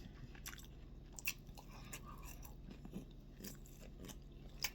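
Close crunching and chewing during a mukbang eating session, with irregular bites and small crisp cracks repeating over a low steady background, a few sharper crunches standing out, and no talk.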